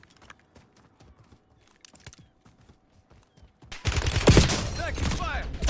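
Loud, dense burst of gunfire from the video game Call of Duty Modern Warfare 3 erupts partway through, following quieter clicks and faint sounds, and continues as a sustained barrage to the end.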